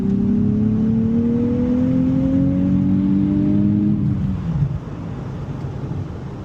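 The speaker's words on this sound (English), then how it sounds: "So third gear, a little pull." A 2027 Nissan Z NISMO manual engine pulling under acceleration in third gear, its tone rising steadily in pitch before easing off, loud and close with no talking.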